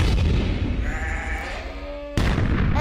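A single sheep bleats with a wavering, drawn-out cry against a low rumbling background, followed by a sudden sharp burst of noise.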